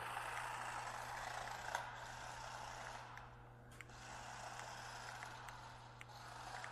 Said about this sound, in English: So let's see what kind of drifting we can do with this little budget 124 scale.